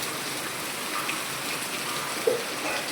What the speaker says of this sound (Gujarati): આવો વરસાદ ચાલુ છે અત્યારમાં.